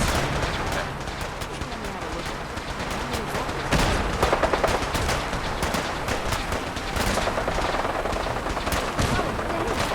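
Chaotic gunfire rattles through a crowded street battle in Fallout 4, with rapid bursts and single shots overlapping almost nonstop, growing louder midway, and indistinct voices faintly mixed underneath.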